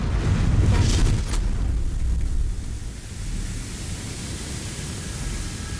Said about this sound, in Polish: Te wybuchy tutaj jest naprawdę masakra.